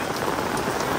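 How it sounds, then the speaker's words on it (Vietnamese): Heavy outdoor rain pours steadily at a graveside memorial in Vietnam, a dense, continuous hiss of drops hitting surfaces close by, with no voices. "mưa lớn luôn quý cô chú chị, ướt đầu luôn rồi"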